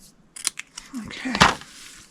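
Paper sentiment cut by hand with scissors for a St. Patrick's Day stamped treat box: a few close, crisp snips and rustles in short bursts, growing louder toward the end, with no talking.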